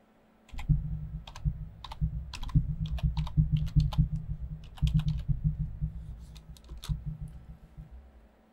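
Rapid clattering keystrokes on a computer keyboard, close up, in irregular bursts with short pauses between runs of typing.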